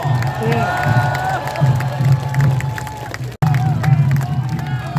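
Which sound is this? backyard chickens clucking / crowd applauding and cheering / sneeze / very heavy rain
crowd applauding and cheering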